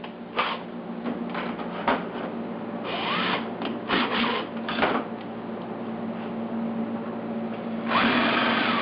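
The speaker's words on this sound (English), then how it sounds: "So the first step in that is drilling out the hole." A power drill whirs in uneven bursts, stopping and restarting as it drills a hole in a 1976 Mazda RX-5 Cosmo oil pan, close and moderately loud with clanks in between.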